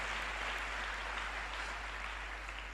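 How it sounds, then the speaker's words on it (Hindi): Church congregation applauding during a prayer revival service, a steady, fairly faint wash of many hands clapping over a constant low electrical hum, without voices. "आज जोरदार तालियां आसमान के बादशाह के लिए बजाएंगे"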